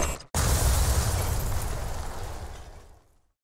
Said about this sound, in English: Please don't tell me it's about to explode.